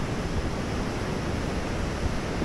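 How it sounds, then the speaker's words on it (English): Ocean waves at Luskentyre Beach on the Isle of Harris, Scotland, make a steady, dense roar of surf that fills the whole moment evenly, with no voices. "look at the waves out here."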